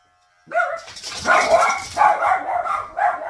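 Several dogs bark in short bursts during a grooming session, a quick yelp followed by a run of loud, close barks that repeat through the moment.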